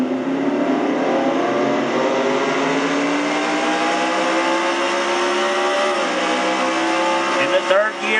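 Race car engine in a racing video game, a loud continuous whine that drops as it downshifts and then climbs again, ending with a brief burst of rasping revs.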